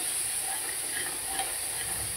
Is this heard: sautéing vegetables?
yes